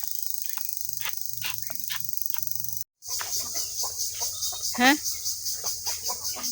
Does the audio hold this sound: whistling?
no